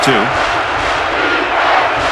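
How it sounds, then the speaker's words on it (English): A stadium crowd in the video game NCAA Football 11 roars loudly and continuously in a dense wall of cheering, with a brief voice at the start. "this crowd is going absolutely insane"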